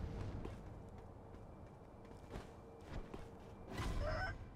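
A chicken clucks in the video game Sekiro, faint and intermittent over a low game ambience, with a sharper burst near the end.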